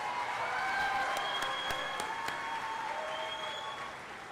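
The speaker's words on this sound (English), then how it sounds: "You can clap." Outdoor crowd applause at a 2022 high school commencement ceremony, a steady wash of clapping from a large audience at moderate distance, with a few sharper nearby claps standing out and slowly tapering toward the end.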